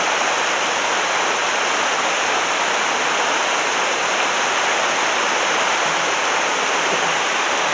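A river rushes in a steady, loud, broadband roar of flowing water that holds unbroken throughout, with no voices.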